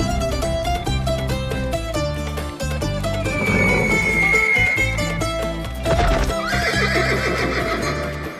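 Horse neighing with hooves clopping in a drama series scene, a drawn-out whinny rising midway over steady hoofbeats, all mixed under loud background music.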